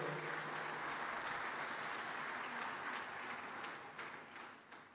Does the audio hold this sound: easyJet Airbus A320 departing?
no